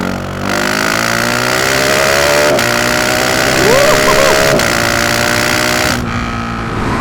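A GasGas SM 700 supermoto motorcycle engine revs hard while riding, loud and close, its pitch rising through gear changes with quick-shifter blips before dropping off near the end.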